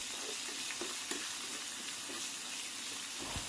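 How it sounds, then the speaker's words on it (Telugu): A tempering of cumin, mustard seeds, two dried red chillies and curry leaves fries in hot oil over a medium flame, giving a steady close sizzle with light stirring clicks and occasional pops, and no voices. "ఇప్పుడు ఈ తాలింపును మీడియం ఫ్లేమ్లో బాగా వేయించుకోవాలి"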